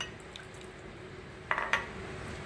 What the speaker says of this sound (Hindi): देखिए मैंने 2 से 3 चम्मच इसमें पानी डाल दिया है।